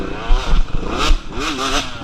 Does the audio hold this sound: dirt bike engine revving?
yes